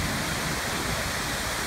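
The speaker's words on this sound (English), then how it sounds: "it's the waterfall." Waterfall cascading below the museum in Barcelona, a dense, continuous broadband rush of falling water, close and steady with no voices.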